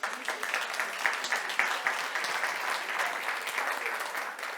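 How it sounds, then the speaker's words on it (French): An audience in a conference hall applauds the moderators of a public panel on culture, a sustained dense wash of many hands clapping at a steady level, without talk. "On les applaudit encore une fois."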